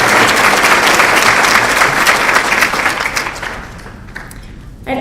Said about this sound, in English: join me in giving them a warm round of applause to thank them